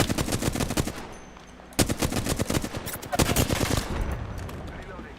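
Rapid bursts of automatic gunfire in the shooter game Apex Legends, several sharp volleys separated by short pauses, loud and close, with a voice speaking faintly underneath.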